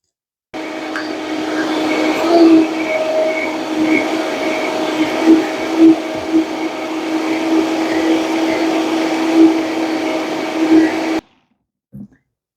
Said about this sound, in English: So now we're just going to blend it up.